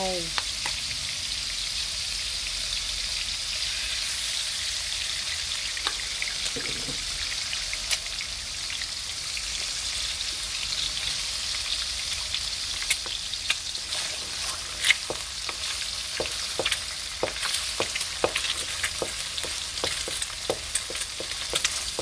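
An egg hits a hot pan and sizzles steadily, a bright constant frying hiss dotted with small pops and crackles throughout, while fried noodles with pork and vegetables cook.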